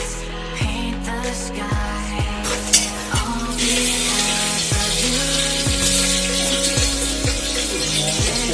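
Onions frying and being stirred in a pan for mutton pumpkin korma in an Indian home kitchen, a steady sizzle with a scrape of the spoon roughly every second, joined by a faint droning hum underneath.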